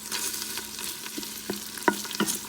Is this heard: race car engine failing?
no